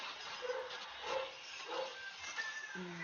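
A small dog yips and barks a few times at a moderate distance, short high-pitched bursts spaced about half a second apart.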